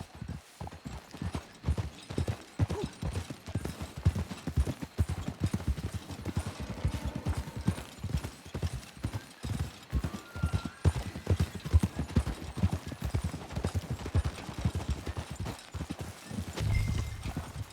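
Horse hooves clip-clopping at a steady trot throughout in Red Dead Redemption 2, close and rhythmic, with a faint whinny near the end and no talking.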